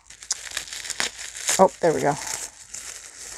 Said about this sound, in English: She's taking like a whole bunch of tissue paper. Crinkling.